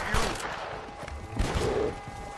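Several gunshots ring out at a bear in Red Dead Redemption, a few sharp cracks spaced over about two seconds amid game ambience, with a voice briefly audible.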